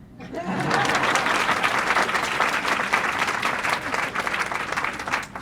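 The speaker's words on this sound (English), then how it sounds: "Now you can clap." An audience at a law talk breaks into loud, sustained applause that starts abruptly and keeps going as dense, even clapping from a full room, with a few faint chuckles mixed in.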